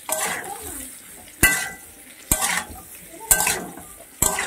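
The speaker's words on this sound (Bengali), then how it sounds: "দেখো এবার ফুলকপিটাকেও দিয়ে দিচ্ছি। দিয়ে ফুলকপিটাও মিনিট দিয়ে ভেজে নেব।" Cauliflower frying in a pan while being stirred, with a sizzling hiss and four sharp, loud clanks of the spatula against the pan spaced about a second apart.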